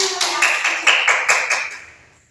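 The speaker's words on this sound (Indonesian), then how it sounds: "Beri tepuk tangan." Applause from a small audience in an Indonesian classroom presentation, a short burst of several hand claps fading out over about two seconds.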